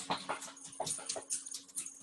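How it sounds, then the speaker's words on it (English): A pet dog gives a run of soft, high whimpers and yips in quick, uneven bursts, close by but quiet, with no talking. "sometimes the dog wanders into the driveway"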